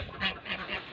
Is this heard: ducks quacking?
yes